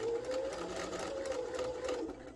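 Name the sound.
sewing machine stitching a fabric mask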